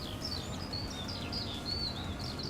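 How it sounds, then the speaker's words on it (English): Birds sing in the middle of a field in Farming Simulator 22, a steady run of high chirps and whistles over a constant low ambient hum, with no speech. "The bird song in the middle of this field is really loud."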